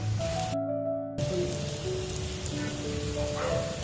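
Onion, garlic and salt frying in hot oil, a steady dense sizzle with a brief dropout partway through, close and continuous with no talk.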